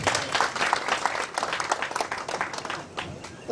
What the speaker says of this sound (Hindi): ताली बजाइएगा।